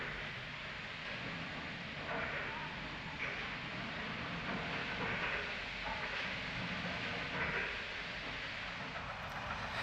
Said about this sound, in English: Inside the museum, a working display of stationary steam engines.